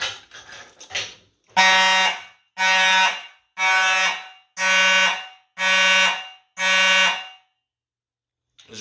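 Simplex electro-mechanical fire alarm horn sounding during a system test, six loud evenly spaced blasts of harsh buzzing tone after a brief burst of mixed noise, with silence between blasts.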